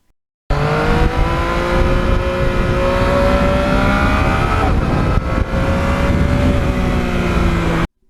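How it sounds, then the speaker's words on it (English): A Yamaha MT-09 motorcycle engine pulls hard and steadily for several seconds, its loud, close exhaust note holding a strong continuous drone with a slight rise in pitch as it accelerates. "That engine has a beautiful power band."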